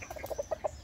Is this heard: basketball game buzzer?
no